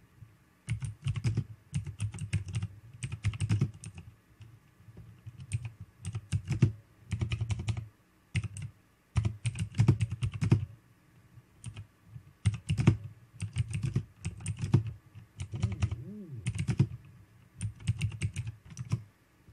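Fast, close typing on a computer keyboard, used to enter chat during a Farming Simulator 19 session. The keystrokes come in irregular clattering bursts separated by short pauses.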